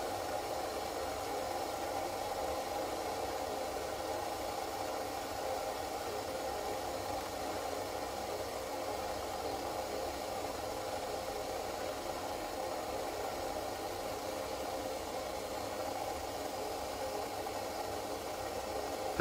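A mini gas burner roars steadily while heating water to a rolling boil, a constant even hiss and rumble with no break, moderately loud and alone without voices.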